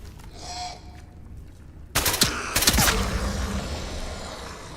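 Loud shots in the video game Atomfall crack out in a quick cluster of several reports just after the two-second mark, then trail into a reverberant roar after a quieter, eerie opening.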